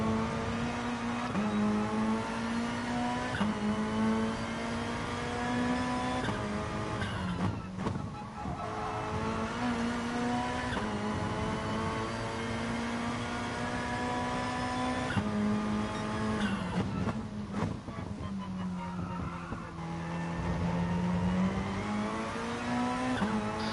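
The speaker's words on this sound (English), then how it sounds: "So absolutely floored the throttle there with no hint of wheel spin or oversteer because I waited long enough" A race car engine under full throttle in the Gran Turismo GR3 class at the Kyoto Yamagiwa circuit, droning steadily and loud, its pitch climbing and dropping through gear shifts.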